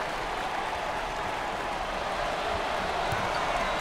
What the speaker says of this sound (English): Listen to that reaction by the crowd. They're loving it.